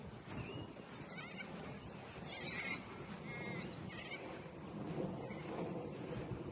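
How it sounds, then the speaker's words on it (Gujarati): A flock of white cockatoos perched outdoors in Australia, calling with harsh, bleating squawks that come in scattered bursts at moderate distance over a steady background, with no talking. "જો બીજા પોપટ, સરસ વ્હાઈટ પોપટનું ટોળું છે બેઠેલું."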